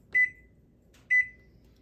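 A microwave oven cooking noodles gives two short, clear electronic beeps about a second apart, close and alone in a quiet room.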